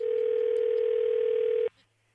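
A steady telephone dial tone holds loud and unbroken for about a second and a half, then cuts off abruptly into near silence.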